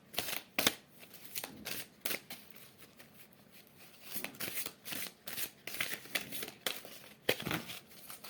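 A deck of oracle cards being shuffled by hand, with quiet repeated riffling and flicking bursts in an irregular rhythm, close and soft, with no voices.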